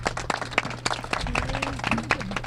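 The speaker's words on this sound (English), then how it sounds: "give Susan a huge round of applause" An audience applauding for Susan at an IONS-LA talk, dense steady clapping throughout with brief tonal voices or cheers mixed in.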